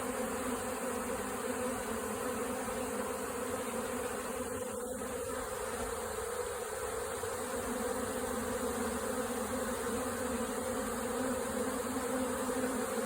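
Steady, dense buzzing of a honeybee swarm flying down into a hive, a continuous drone throughout with no pauses.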